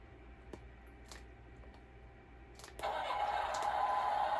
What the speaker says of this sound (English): Press the engine to start the tractor.